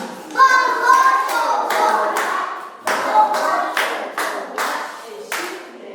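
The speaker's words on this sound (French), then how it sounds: "Applaudissez pour Arena" Kindergarten children at a school French recitation clap together in a lively burst of applause, uneven handclaps rising and falling over several seconds, with a few young voices mixed in.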